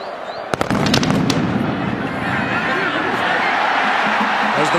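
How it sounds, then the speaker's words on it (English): A cannon blast booms at the close of a college football game, Oklahoma against Oklahoma State, in a packed stadium, a few sharp bangs followed by a loud, sustained crowd roar. "As the guns go off"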